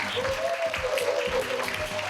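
Audience applause at a residents' general assembly in Majang-dong, Seongdong-gu, Seoul, a steady patter of clapping from a seated crowd over about two seconds, moderately close with a sustained tone running underneath.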